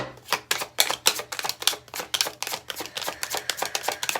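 Rapid, repeated riffling snaps of cards being shuffled, close and crisp, in quick bursts about every quarter second.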